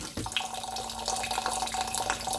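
Tap water runs steadily into a kitchen sink while rice is rinsed, a continuous close splashing stream with small watery clinks, no talking.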